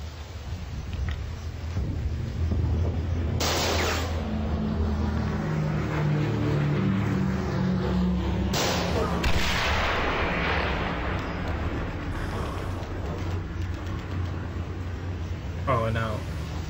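Flak 30 anti-aircraft gun fire in the video game Mud & Blood 2: heavy booming bursts over a constant rumbling battle din, with someone talking throughout.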